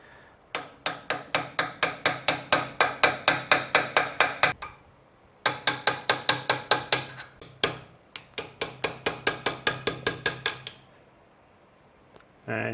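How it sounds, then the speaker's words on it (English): Light hammer blows on a punch, working loose a half-moon woodruff key during bottom-end disassembly of a 2017 KTM engine. Rapid, evenly spaced metallic taps come in three close runs with brief pauses between them. "I'm going to use a punch very carefully and some very light hammering just to get it loose a bit"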